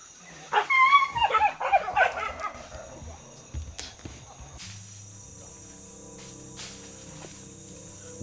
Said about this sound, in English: Hearing the dogs in the distance, the team treks further into the bush